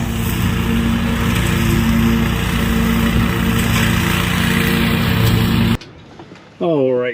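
Lawn mower cutting along an overgrown fence line, a loud steady engine drone close by for most of the stretch, then cutting off abruptly and followed by a brief voice.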